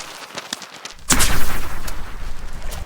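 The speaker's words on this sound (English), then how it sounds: "His specialist claw locks like a rifle" Snapping shrimp claw firing underwater, a single sharp loud crack followed by a roaring rumbling tail, preceded by faint scattered clicks.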